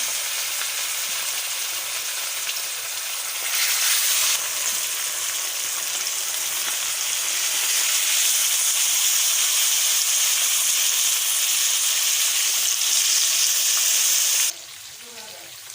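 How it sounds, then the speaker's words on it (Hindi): Fish pieces fry in hot oil in a pan, giving a steady, loud sizzle and hiss that keeps going for about fifteen seconds before it suddenly drops to a softer crackle. "अब हम इसका एक एक पीस उठाएंगे और इसको फ्राई करेंगे।"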